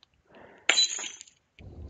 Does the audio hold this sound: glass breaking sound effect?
yes